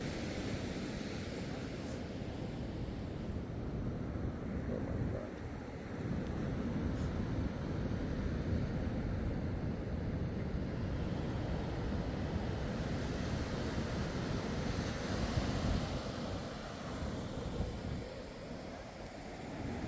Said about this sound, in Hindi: समुद्र का शोर काफ़ी तेज है